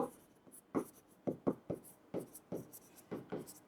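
A pen scratches out a geometry proof on paper in quick, faint, close strokes with short pauses between them.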